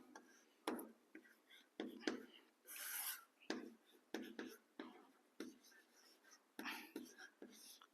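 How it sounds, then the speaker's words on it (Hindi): A pen writes on paper in short scratchy strokes, quiet and close, arriving in uneven bursts with brief pauses between them and a soft whisper-like voice now and then. "और मैं अच्छे से लिख देता हूं।"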